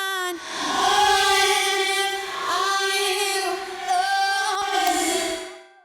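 Sung vocal run through a reverse reverb setting, then compressed and distorted, giving swelling, smeared harmonic tones that rise and fade in a few long phrases, loud and processed.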